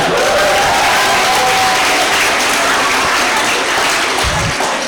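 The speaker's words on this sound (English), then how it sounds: "So give a big applause for Dr. Jihan." A lecture audience applauds loudly and densely throughout, a sustained wash of many hands clapping at close range.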